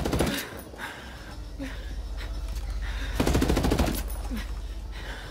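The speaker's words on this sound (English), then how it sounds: "Taking heavy fire here." Heavy automatic gunfire in a video game, with dense rapid bursts of machine-gun fire and scattered shots that swell louder near the middle, with faint speech at moments.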